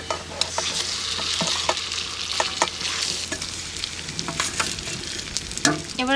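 Marinated mrigal fish hits a pan of reddish fried onions, setting off a steady loud sizzle with scraping stirs and clinks of the spatula throughout.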